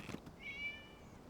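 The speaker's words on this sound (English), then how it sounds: "It was just a cat." A single cat meow in the video game Genshin Impact, a short, clear, tonal cry rising and holding briefly, fairly quiet and alone after a faint click.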